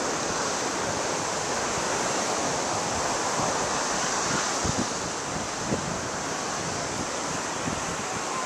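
Waves wash onto a quiet beach in Hawaii in a continuous, fairly loud roar of surf, mixed with wind buffeting the microphone.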